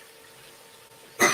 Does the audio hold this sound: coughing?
yes